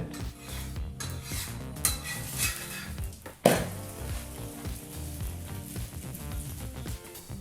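Obbattu, a sweet stuffed flatbread made for the Varamahalakshmi festival, cooking on a pan while being flipped, with a low hiss under clattering metal spatula taps and one sharp knock midway; no speech.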